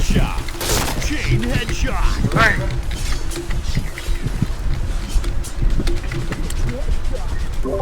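Gunfire rattles in the Point Blank online shooter game, with bursts of rapid shots and sharp cracks scattered through the clip under someone talking excitedly in Thai.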